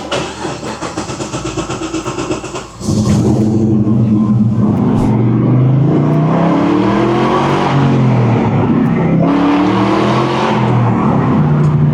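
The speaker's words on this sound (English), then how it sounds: "This car sounds good." A Ferrari F430 on air suspension fires up close by, a loud start giving way to a steady, throaty engine note with gentle revs rising and falling, no talk over it.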